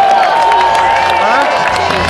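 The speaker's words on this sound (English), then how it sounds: "One more time, let's give a big round of applause for our guest down here." A crowd at a Red Bull X Fighters 2009 freestyle motocross event in London cheers and applauds a guest. The cheering is loud and sustained, with an announcer's voice over it.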